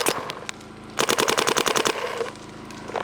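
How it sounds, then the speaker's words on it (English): Geo R5 and Geo4 guns firing in a comparison: a few scattered single shots, then a fast rhythmic volley of roughly ten closely spaced reports, trailing off into a couple of softer, sparser shots. "Just a little shot comparison between the new Geo R5 and the Geo4."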